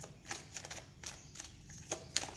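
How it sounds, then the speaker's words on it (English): Rider-Waite tarot deck being shuffled by hand, a run of soft, papery riffles and flicks in short bursts, fairly quiet and close with no voice over it. "Let us shuffle the Rider-Waite deck."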